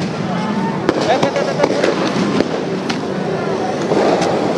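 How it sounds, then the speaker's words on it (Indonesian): Police fire tear gas launchers at a protest by students and workers, sharp bangs popping repeatedly amid loud crowd noise and a reporter talking over the scene. "pihak kepolisian terus berupaya untuk menembakkan gas air mata"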